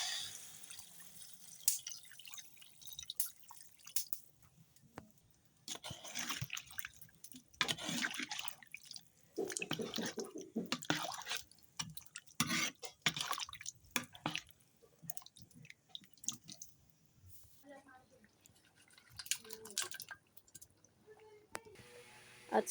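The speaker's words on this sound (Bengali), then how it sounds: "এবার পরিমাণ মতো জল অ্যাড করতে হবে।" Water being poured into a cooking pot gives soft, intermittent splashing and gurgling at close range, fairly faint, in uneven bursts over the run.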